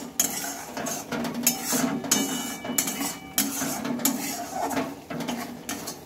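A spoon scrapes and clinks against a pan as chili powder and spices are mixed into fried potatoes, producing repeated close, irregular metallic taps and scrapes with no talking.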